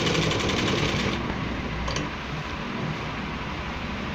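A sewing machine runs in a fast, continuous mechanical whir while stitching a pocket onto a gents kurta, close and loud throughout, easing slightly in pitch partway through.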